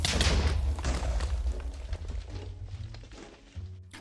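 A Minecraft trap triggered by a pressure plate goes off with a heavy booming thud, then the rumble decays over a few seconds, followed by a fainter later thump.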